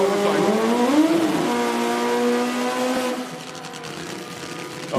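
Top Fuel drag motorcycles with 1,500 cc inline-four engines scream at a drag strip qualifying session, a loud sustained tone that climbs in pitch, holds, then drops away, with a brief burst at the end.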